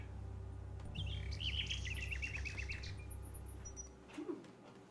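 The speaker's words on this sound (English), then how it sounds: "She sings the most beautiful song Alexander has ever heard." A nightingale's song in King's Quest VI, a quick run of bright chirps and trills sitting faint over a low game music drone.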